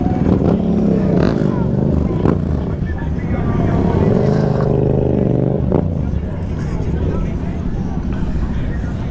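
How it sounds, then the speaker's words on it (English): A loud motorcycle engine rumbling and revving at a motorcycle meet, with a crowd chattering around it and voices talking close by. "That bike is kind of loud."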